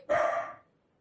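A single short, sharp dog bark, fairly near and clear, fades quickly into quiet.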